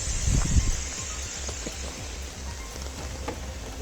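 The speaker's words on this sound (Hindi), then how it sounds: "दिल्ली एनसीआर में हो रही बारिश ने माहौल बदल दिया है।" Steady rain in Delhi NCR patters on surfaces outdoors, a dense even hiss with scattered drips and a low rumble at the start.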